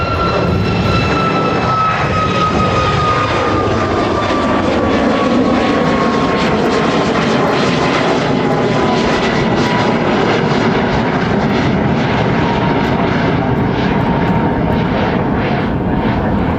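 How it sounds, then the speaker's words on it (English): A Hawaiian Airlines Boeing 787 Dreamliner inbound from Phoenix roars steadily overhead on its landing approach, loud and sustained for the whole span, with a descending engine whine and no voices. "that was one of the 2 Hawaiian Dreamliners. He was coming in from Phoenix."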